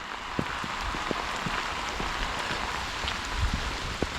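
Steady rain falling outdoors in Pegswood, a constant hiss of drops on surfaces with scattered sharper nearby raindrop taps, no talking.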